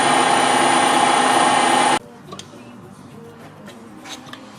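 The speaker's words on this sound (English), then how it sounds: "This is a tapping drill for 1/4 Whitworth." A power drill with a tapping drill for 1/4 Whitworth runs loud and steady into metal for about two seconds, then stops abruptly, leaving faint workshop clicks and handling noises.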